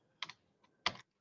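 Keys clack on a computer keyboard during Python coding, two quick taps, a faint tick, then a firmer Enter press, crisp and close in a quiet room.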